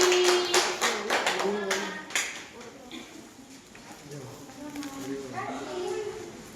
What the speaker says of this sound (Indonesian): Beri tepuk tangan dulu buat kelompok Bumi